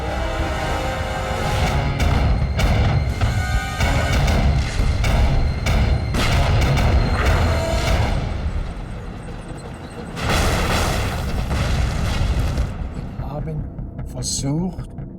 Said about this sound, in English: Enormous explosions.